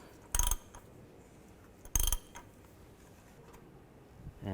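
A new oil filter is tightened on a 2014-2019 Toyota Corolla, giving two short, crisp ratcheting bursts about a second and a half apart. They sound close, with quiet in between.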